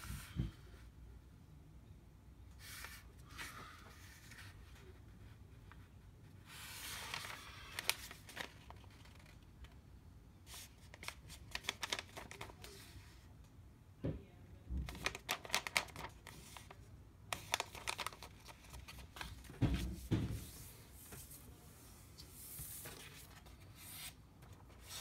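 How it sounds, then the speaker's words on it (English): A square sheet of origami paper being folded in half, with soft crinkling, rubbing and creasing rustles coming in scattered bursts, close up and quiet, with no voices. "So first step is just to fold in half."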